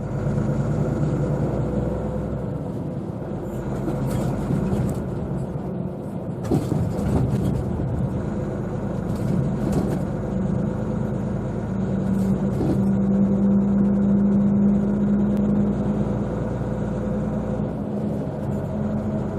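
A car drives slowly around a ferry port, with steady, close engine and road rumble throughout and a brief tonal hum partway through, and no talking.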